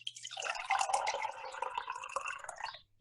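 Hot coffee poured into a cup, a soft close trickle and splash whose pitch climbs as the cup fills, fairly faint and heard alone.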